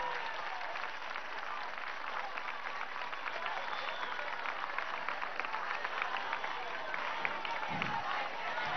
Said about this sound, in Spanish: Vamos a darle un aplauso a las mujeres embarazadas.